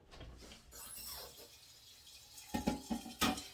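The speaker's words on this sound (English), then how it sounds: "So first we're going to fill up some water for our broccoli." Tap water runs into a cooking pot to steam broccoli, a steady splashing flow that ends in a few louder sloshing bursts near the close, with no talk over it.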